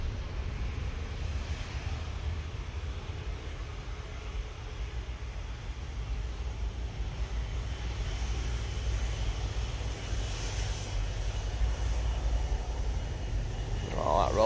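An airliner powered by Rolls-Royce Trent 700 engines at Manchester Airport, a steady broad engine roar with heavy low rumble held throughout, fairly distant and continuous.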